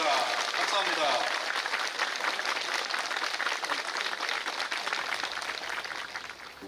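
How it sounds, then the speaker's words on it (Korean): An audience applauds steadily at a Korean Buddhist event, a broad, even clatter of many hands that fades slightly toward the end. "큰 박수 부탁드리겠습니다"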